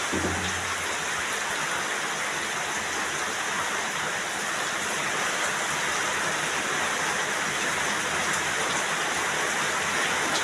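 Heavy rain pours down in a dense, steady hiss of falling water that stays even and loud throughout.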